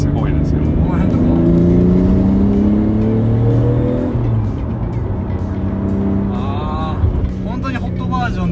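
A Nissan Skyline R34 GT-R engine with GT-SS turbos revs and drones loudly with a distinctive throaty tone, rising and falling as it pulls, with people talking over it.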